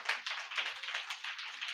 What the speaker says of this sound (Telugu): ఓకే గట్టిగా అక్కకు చప్పట్లు కొట్టండి